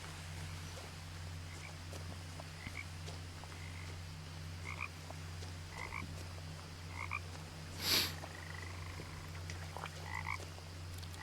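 Frogs croak in the video game What Remains of Edith Finch: short, repeated calls, some in quick pairs, scattered over a steady low ambient hum. A brief louder burst sounds partway through, and nobody speaks.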